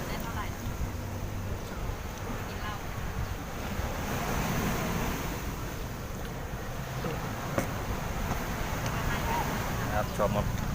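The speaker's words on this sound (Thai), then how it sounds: "มาครับพี่น้องวันนี้เราอยู่ที่หาดชามครับ" Surf breaks steadily at Cha-am beach in Phetchaburi while wind buffets the microphone. The roar of the sea stays constant throughout, with faint voices in the background.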